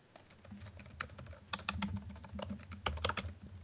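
Fast, uneven typing on a computer keyboard during a live coding session, a dense run of sharp key clicks with bursts and brief pauses, close and moderately quiet with no speech.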